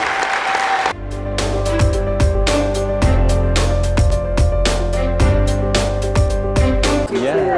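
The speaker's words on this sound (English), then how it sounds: "can we give George another round of applause?" A crowd at an honoring ceremony applauds steadily for several seconds, loud and close, with dense clapping throughout and a sustained tone running underneath.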